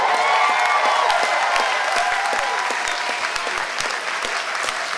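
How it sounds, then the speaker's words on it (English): A crowd at a gala applauds and cheers, with a dense wash of clapping and whooping voices, loud and sustained throughout, with sharp individual claps standing out near the front. "If you agree, make some noise up in here"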